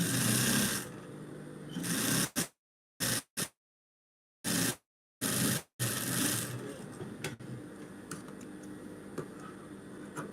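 A sewing machine runs through fabric in close, raspy bursts, stopping and starting with short silent gaps between the stitching runs.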